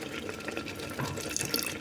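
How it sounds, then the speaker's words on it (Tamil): Water pours steadily into a cooking pot for Tamil-style drumstick leaves soup on the stove, a continuous close splashing stream with no voices over it. "தண்ணிக்கு தேவையான அளவு ஊற்றிக்கலாம்"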